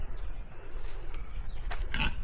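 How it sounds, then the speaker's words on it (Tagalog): A pregnant pig on a farm in the province lets out a loud, rough grunting squeal near the end, set against steady outdoor background noise. "Sabay yung baboy dito guys, buntis na."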